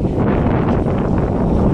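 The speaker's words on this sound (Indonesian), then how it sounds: "Angin kencang." Strong wind buffets the microphone of an FPV hobby drone outdoors, a steady dense roar of gusting rumble filling the clip for under two seconds with no voices.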